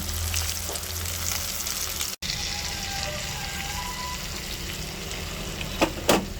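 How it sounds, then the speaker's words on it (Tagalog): Chicken frying in hot oil makes a constant dense sizzle and crackle, close and even, with a brief dropout and a couple of sharper pops toward the end. "Luto na ating fried chicken, juicy fried chicken."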